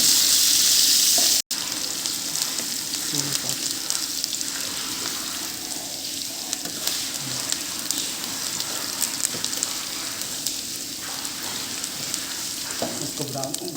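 Garlic, hot green chillies and curry leaves sizzle and crackle steadily in hot oil with mustard seeds for a tempering, close and continuous after a loud initial burst as they hit the pan.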